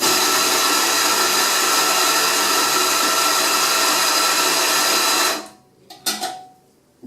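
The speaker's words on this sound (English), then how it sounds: "You then grind your coffee." A Simonelli Mythos Plus coffee grinder grinds a double portafilter dose in a steady, loud whir that runs unbroken for about five seconds, then cuts off abruptly, leaving a few faint clicks and knocks of the portafilter being handled.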